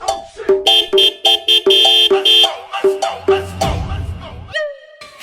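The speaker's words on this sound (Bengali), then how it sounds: "এই এত হর্ন বাজাচ্ছিস" A vehicle horn honks repeatedly in short, loud bursts, about a dozen quick blasts in an uneven rhythm, followed by a brief rumble and scraping clatter at close range.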